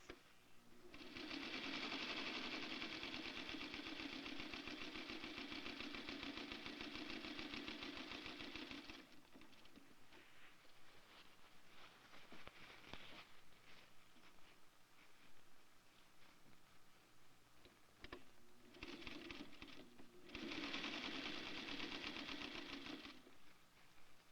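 Sewing machine stitching a dress seam along the seam allowance in a clothing construction setting, running steadily for several seconds, pausing through a quieter stretch, then running again near the end.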